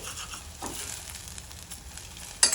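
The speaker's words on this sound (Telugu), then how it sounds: "అల్లం వెల్లుల్లి అది వేసుకొని అది 1 నిమిషం పాటు ఫ్రై చేసుకుందాం" Ginger and garlic frying in a pan for a cluster bean curry, a close, steady sizzle with light stirring scrapes and a sharper clatter near the end, no one speaking.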